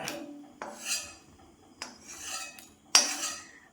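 A metal spoon scrapes and scoops roasted urad dal from a pan several times, each stroke a short gritty rasp, close and clear with no talking.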